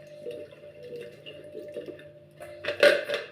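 Cut eggplant is rinsed in a bowl of water with soft sloshing and dripping that rise to a louder splash near the end, close by and quiet overall.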